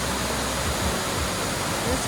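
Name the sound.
waterfall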